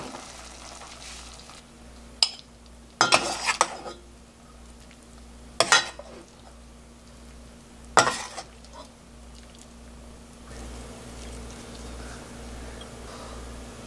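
Beef jangjorim, a braised soy beef dish made with sliced beef and finely chopped green onion, being ladled into dishes; a few sharp clinks of utensils on bowls over a low, steady background hiss, with no talking.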